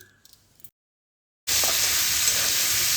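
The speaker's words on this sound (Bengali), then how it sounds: "সব মশলাগুলো ভালোভাবে মিশিয়ে নিচ্ছি" Pumpkin frying in a pan as turmeric, Kashmiri chilli powder and salt are stirred in, a loud steady sizzle and hiss that cuts in abruptly after a short silence and continues close up.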